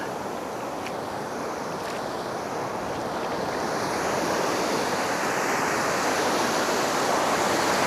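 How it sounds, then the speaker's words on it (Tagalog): Large ocean waves crash and roar continuously during night fishing, a loud, wind-blown wash of surf that swells slightly louder partway through. "Malaki ng alon."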